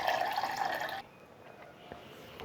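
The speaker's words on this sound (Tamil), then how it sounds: "தேவையான அளவுக்கு தண்ணி சேர்த்துக்கலாம்." Water pours into a cooking pan for about a second while plantain is being prepared, then a few faint drips and splashes follow in a quiet kitchen.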